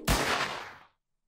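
A single loud gunshot from a horror video game, Let's Find Larry, with a sharp close crack followed by a short decaying tail that fades out within a second into silence.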